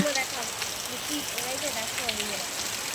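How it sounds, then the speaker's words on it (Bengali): Heavy winter rain pours steadily outside after strong winds, a dense even hiss of drops on surfaces, with a voice talking faintly beneath it. "এতদিন পরে বৃষ্টি হচ্ছে দেখতেও ভালো লাগছে"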